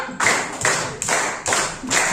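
A classroom clapping signal made of five crisp, evenly spaced hand claps, close and loud, with no talking.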